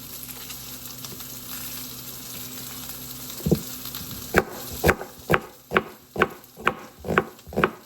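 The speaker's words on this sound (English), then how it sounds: "while my chuck roast is searing in the pan" A chuck roast sears in a hot pan with a constant sizzle, then a quick run of about ten rhythmic scraping knocks as it is moved and turned in the pan.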